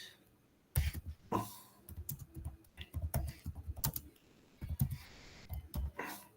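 Quick, uneven bursts of clicking from a computer keyboard being typed on, fairly close and clear with short pauses between runs of keystrokes, no voices.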